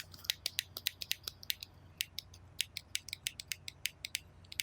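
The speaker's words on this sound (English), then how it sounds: "So you have your back buttons here. They are pretty clicky, as you can see." Back buttons on a DualShock 4 back button attachment click repeatedly by hand, a rapid series of sharp, crisp, springy clicks in an irregular rhythm, close up against a faint background hum.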